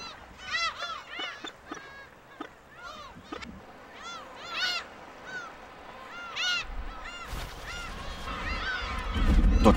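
A large colony of black-tailed gulls, around twenty thousand birds, calls from the nesting grounds in dense overlapping cries and honking squawks, loud and near, with a rising roar of wind or surf at the end.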